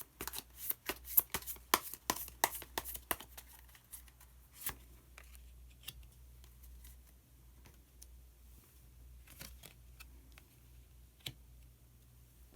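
Tarot cards being shuffled by hand before one is drawn: a quick run of crisp, close riffling clicks at the start, then sparse faint taps and clicks in a quiet room with no talk.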